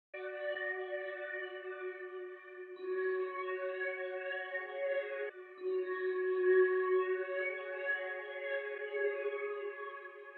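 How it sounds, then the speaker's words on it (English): Sustained synth chords from the Fantastica preset in Flex, part of a Synthwave pack, playing soft, steady pad voicings that change every few seconds with a gentle, watery wobble. "I'm using the Fantastica preset in Flex from the Safe Sameware Synthwave pack"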